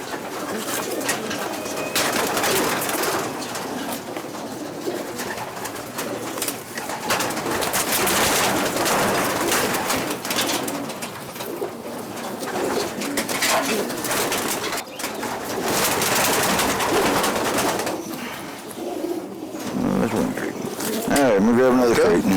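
Racing pigeons coo steadily in a one-loft race loft, a soft throaty burbling that runs throughout. People talk nearby over the birds.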